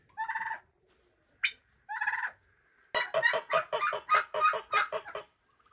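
Hens cluck nearby in short, separate bursts, then break into a rapid run of repeated clucks, clear and close on a quiet farm.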